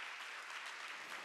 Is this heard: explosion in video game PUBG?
no